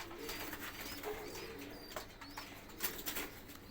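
Domestic pigeons kept on a rooftop garden coo softly and repeatedly at close range, with some light wing flutter and faint chirps. No one speaks.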